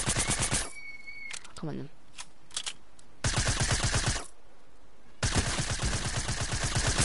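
Rapid automatic gunfire from Fortnite comes in loud sustained bursts separated by quieter gaps, with a short spoken phrase between the volleys.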